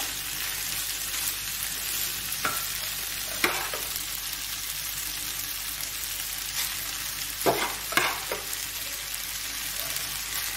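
Vegetable fried rice frying in a pan and being stirred, a constant close sizzle broken by a few sharp scraping strokes, with no voices.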